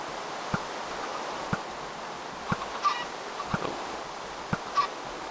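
Chickens in Minecraft are struck by thrown eggs, giving sharp, regular thuds about once a second and a few short squawks over a soft, constant background hiss, with no voices.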